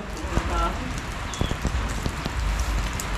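Steady rain pattering on a surface, with scattered heavier drops and a faint voice briefly in the mix.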